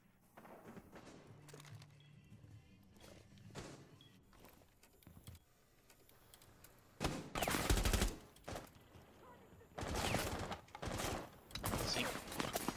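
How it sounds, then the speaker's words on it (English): Rainbow Six Siege gunfire crackles in bursts, with sporadic single shots early on and then loud, sustained rapid fire coming in several heavy volleys. "Gunfire from all angles aimed at Sync."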